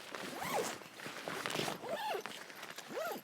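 Door of a Kampa Bergen Air Pro inflatable tent being zipped, several quick rasping zipper pulls in separate bursts, close and fairly quiet.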